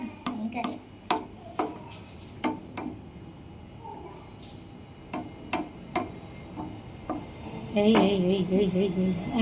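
A spoon stirs noodles in a pan on a gas stove, giving intermittent sharp clicks and scrapes at an uneven pace, mostly faint, with people talking in between.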